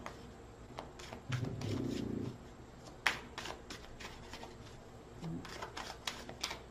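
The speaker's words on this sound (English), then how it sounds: "One more shuffle." Oracle cards are shuffled by hand at close range: soft, intermittent riffles and light slaps of card stock come in short bursts over a quiet room, with a brief low hum partway through.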